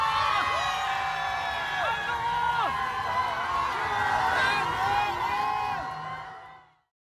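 A crowd of political supporters cheers and whoops continuously at close range, with excited shouts rising over a steady roar before it fades out at the end.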